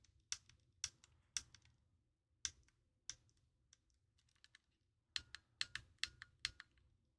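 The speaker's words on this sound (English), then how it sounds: "This button definitely doesn't have as much travel, but it is clicking all right now." Buttons on a Nintendo DSi XL handheld console click in quiet, sharp taps, a scattered handful at first and then a quicker cluster of clicks near the end.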